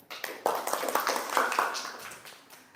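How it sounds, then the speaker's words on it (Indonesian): An audience at an Indonesian teacher performance assessment event applauds after singing the national anthem. The clapping is dense and continuous, quickly swelling and then gradually tapering off. "Tepuk tangan buat teman kita yang telah memandu kita dalam menyanyikan lagu Indonesia Raya."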